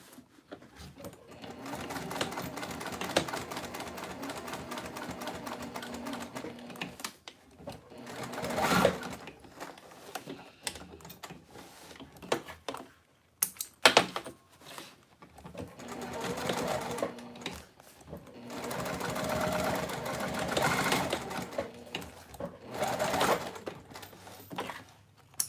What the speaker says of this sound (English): this machine does handle these thicker threads like a boss